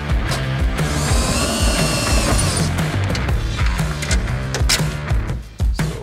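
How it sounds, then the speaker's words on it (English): Loud power drill whines as it bores a hole in 6061 aluminum sheet for a riv nut on a Suzuki Samurai fender flare, with a rising motor pitch, then rattling and clunking of the bit and workpiece. "I'm going to drill a hole here and install a riv nut"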